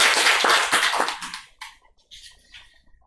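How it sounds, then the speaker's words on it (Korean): An audience at a church service claps briefly, a burst of hand claps for about a second and a half that quickly thins into a few scattered claps and fades to quiet. "다시 한번 박수 할까요?"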